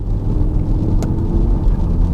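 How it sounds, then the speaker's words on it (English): A green Audi RS Q3 Sportback drives along, its engine producing a steady, loud low rumble heard from inside the car, with no talking. "Let's go and drive this very green Audi RS Q3 Sportback."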